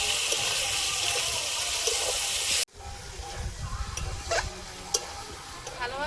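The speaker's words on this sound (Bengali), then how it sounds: "ভালোভাবে মশলাটা কষিয়ে নিচ্ছি।" Spices fry and are stirred in a pan: a loud steady sizzle cuts out abruptly, then softer sizzling returns with scraping stir strokes and small clinks.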